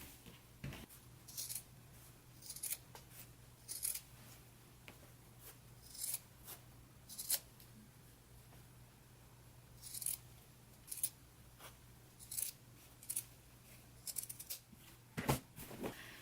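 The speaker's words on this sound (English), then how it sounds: "Now I'm going to go ahead and trim that seam down just a little, and then I will clip into the curves." Scissors trimming a shirt neckband seam allowance and clipping into its curves, crisp snips in irregular bursts close by over a low steady hum, no talking.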